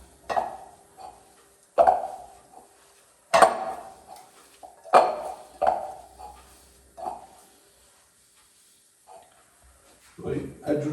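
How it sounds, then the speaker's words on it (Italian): Frittelle dough worked dry in a bowl with a utensil, giving a steady series of clinks and scrapes against the bowl, roughly one every second or so, with quieter stretches between. "Diamo una bella impastata prima a secco."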